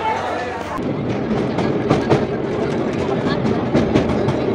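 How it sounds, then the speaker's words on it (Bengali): A MEMU passenger train pulls into a Bankura-area station. Its rumble and wheel clatter fill the clip at close range, with a few sharper rail clanks on top. "তার মেমু ট্রেন চলে এসেছে।"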